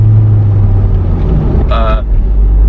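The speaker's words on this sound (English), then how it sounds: "it sounds like a revvy engine" A loud supercharged Corvette engine roars steadily with deep low rumble, close by, with a brief higher whine rising near the end.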